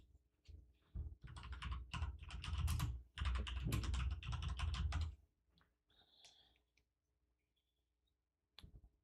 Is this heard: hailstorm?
no